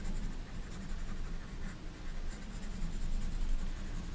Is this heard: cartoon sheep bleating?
no